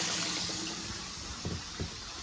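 Water pours into a pet's food and water bowl in a short, steady splash at close range that fades after the first moment, with a couple of soft clinks and no talking.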